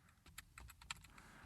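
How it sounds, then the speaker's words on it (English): Typing on a computer keyboard, a quick run of about a dozen light key clicks, close but quiet, with no voice. "So I'm going to type"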